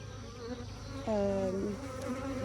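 Honeybees from a backyard hive buzzing close by in a steady, continuous drone, with a louder individual bee passing near partway through.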